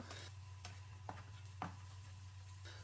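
Sliced onion, ginger, garlic and chillies sauté for a restaurant-style prawn roast, giving a faint, steady sizzle with a few soft stirring scrapes in the pan.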